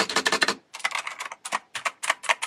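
A clicky pink gaming keyboard at a streaming desk is typed on in quick bursts of sharp, crisp keystrokes, several rapid clusters separated by short pauses, close and clear with no talk.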